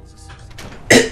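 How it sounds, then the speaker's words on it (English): A single short, sharp cough from a Fallout 4 game character bursts out near the end, after a quiet stretch of faint background ambience. "Cough again."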